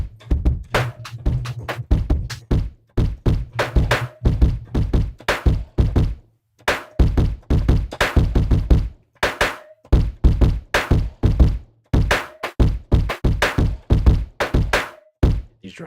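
Punchy drum loop built with the Lunchtable plugin: rapid, dense thunks and knocks in a steady beat pattern, loud and close, with no talking.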